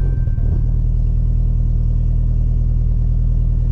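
A Dodge Challenger Hellcat Redeye Super Stock launches with a loud, steady, low engine roar that holds at full volume throughout, a brief clatter near the start, no talking.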